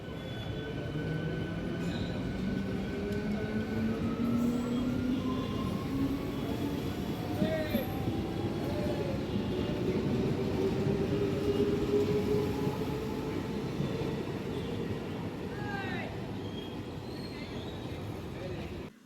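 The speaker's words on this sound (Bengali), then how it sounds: "ছেড়ে দিল ট্রেন আবার" A train pulls away, a steady rumbling roll of wheels on track with rising drawn-out tones and occasional faint squeals, heard close and continuous for the whole stretch, with voices murmuring underneath.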